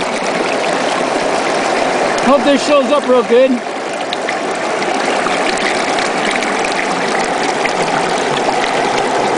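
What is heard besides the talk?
water washing gravel through a gold sluice box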